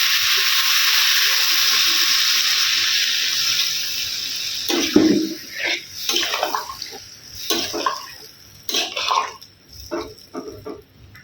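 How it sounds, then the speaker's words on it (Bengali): Water poured into a pan of sautéed potato curry: a loud rushing sizzle for several seconds, then uneven bursts of bubbling and hissing as the pan settles, close and with no talking. "এবার আমি জল দিয়ে দেব।"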